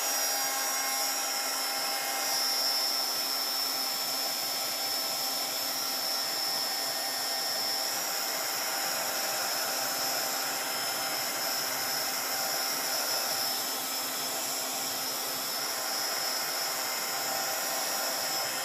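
A hair dryer or heat tool blows steadily on mixed media craft pieces, a constant loud whirring hiss that runs unbroken throughout.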